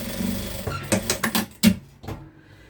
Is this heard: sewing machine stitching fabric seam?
yes